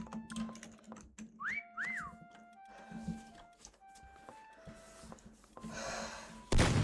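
A person whistles short rising and falling notes and a few held tones while playing the game Meccha Chameleon, with breathing and small knocks around it, close and fairly quiet.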